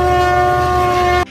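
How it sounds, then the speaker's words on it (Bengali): A snow blower train clearing a railway sounds a loud, sustained horn tone, close and steady, cutting off abruptly near the end. "এটি স্নো ব্লোয়ার ট্রেন বা স্নো রিমুভাল ট্রেন, বাংলা কথায় বরফ সরানো ট্রেন।"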